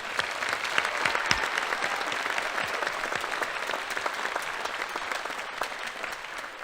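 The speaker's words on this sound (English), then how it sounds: "Please join me in giving our CTE teachers another round of applause" Sustained applause from a ceremony audience honoring career and technical education teachers, dense steady clapping with a few sharper claps standing out, continuing evenly throughout.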